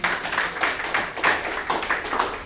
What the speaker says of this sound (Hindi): आप बस ऐसी तालियां बजाते रहिए